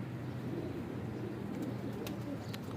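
Pigeons coo softly and continuously on a rooftop in Lahore, a low, steady burbling murmur with a few faint chirps and clicks overhead.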